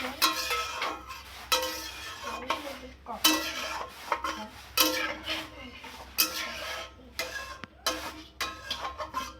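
Ingredients for a potato and flour snack dough mixed with water in a bowl, giving repeated scraping, clinking stirring strokes in irregular bursts, close and fairly clear, with no talk.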